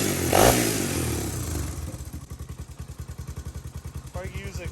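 A 1985 Honda ATC350X three-wheeler with no brakes and a suspected exhaust or head gasket leak coughs to life, then settles into a loud, close, rhythmic chugging idle with a clattering pulse.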